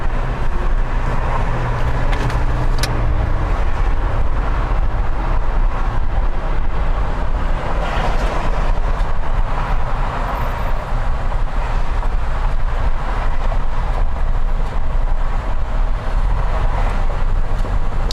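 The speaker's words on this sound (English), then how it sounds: "You guys want the sound of cars going by?" Steady roar of cars passing on the 405 freeway in Los Angeles, a continuous broadband rumble of traffic heard from a car in dense flow, loud and unbroken, with no talk over it.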